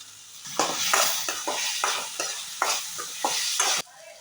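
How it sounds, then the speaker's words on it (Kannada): Tomato and capsicum frying in a pan, a bright continuous sizzle broken by repeated scraping stirs of a spatula at a steady, uneven rhythm, close and loud with no talk. "ಟೊಮೆಟೊ ಚೆನ್ನಾಗಿ ಫ್ರೈ ಆಗಬೇಕು."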